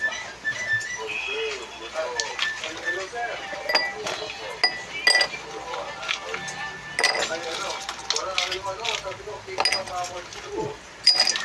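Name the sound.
ice clinking into a glass for iced Milo latte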